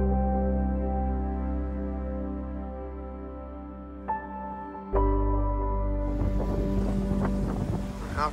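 A sailboat glides between two small headlands into a large bay. A steady low droning hum carries under gusty wind on the microphone, growing louder and rougher midway through, with no voices.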